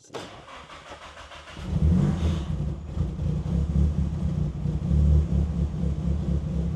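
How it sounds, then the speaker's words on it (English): A Nissan S14 Silvia with Kelford cams running on ethanol fuel cranks and fires up, a brief starter whir followed by a loud, rumbling idle that settles in close by. "Let me start the car."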